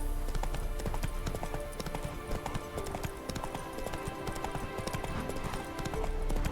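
Geralt's horse Roach gallops in The Witcher 3: Wild Hunt, steady rhythmic hoofbeats pounding close and loud over game ambience.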